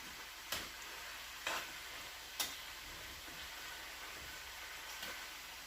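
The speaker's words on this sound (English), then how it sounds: "keep mixing it like this, or pushing it so it doesn't stick on the bottom" Chicken wings fry in a pan with a faint, steady sizzle, broken by a few sharp scraping clicks as they are stirred and pushed around.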